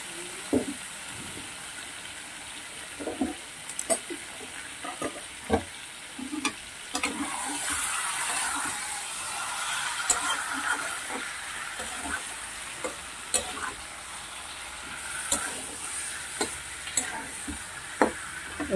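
Chicken and masala stir-fried in a pan for biryani, a steady sizzle broken by repeated scraping and clattering stirs at an irregular rhythm, close and fairly loud, with no talking.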